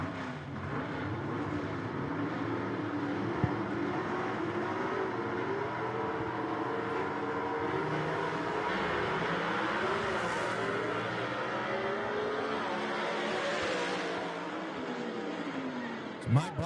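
Drag race at a gassers event at a dragway, with a 1955 Thunderbird racing a Mini: a steady, loud engine roar holds for the whole span alongside a commentator's voice and crowd noise, then swells briefly near the end.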